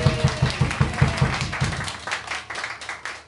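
Clapping from the crowd at a tribute band show at Penny Lane, a busy spread of hands over a regular low beat that fades out toward the end.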